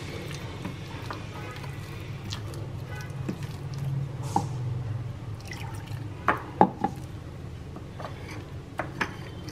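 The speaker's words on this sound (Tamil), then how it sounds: "கொஞ்சம் கொஞ்சமாக தண்ணி ஊற்றி கரைச்சிக்கோங்க" Water trickles slowly into ragi dosa batter as it is mixed, giving soft drips and wet squishing under a low steady hum, with a few sharper splashes toward the end.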